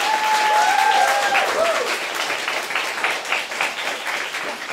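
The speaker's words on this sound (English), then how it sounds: "let's give Michia a big hand" Audience applauding a speaker at a business talk, dense enthusiastic clapping from a packed room, loud at first and easing slightly, with a brief whistle or cheer near the start.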